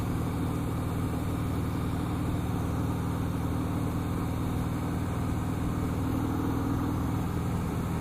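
Harley-Davidson Breakout motorcycle engine while riding on a rough, broken road: a steady, dense engine rumble mixed with wind noise, continuous and loud for the whole stretch.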